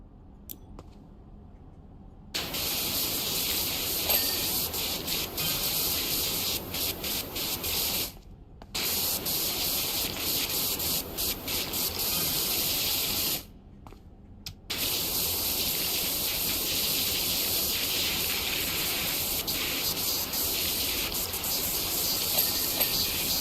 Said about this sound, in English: we're just giving it a rough spray from the beginning